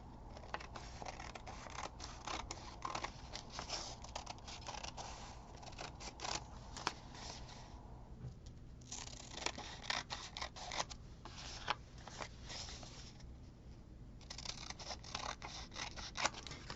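Scissors trimming paper for a handmade pouch with a pocket, a run of quick close snips and crisp cuts with short pauses between strokes, no talking.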